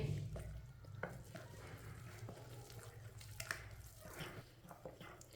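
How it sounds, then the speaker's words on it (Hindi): Gram flour pakora batter is stirred with water in a bowl, giving a steady wet, squishy churning with soft scraping clicks, close and continuous throughout with no talking. "अच्छी तरह मिक्स करेंगे।"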